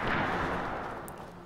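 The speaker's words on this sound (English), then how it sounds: "Head towards gunshots." A dense, steady roar of gunfire in the video game State of Decay rattles continuously at a distance, fairly loud and unbroken, with no voices.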